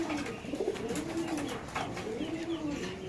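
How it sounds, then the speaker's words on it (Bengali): A rare-coloured racer pigeon coos close by at a market, with soft, repeated rising and falling coos over a busy background hum. "আচ্ছা একটু কবুতর শুনুন।"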